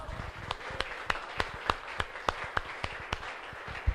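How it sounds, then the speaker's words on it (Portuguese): Sparse, rhythmic hand claps from a church congregation at a Graça ministry service, a dozen or so sharp claps at a steady beat, moderately close and fairly faint over a quiet room. "Vamos saudar o Senhor com palmas."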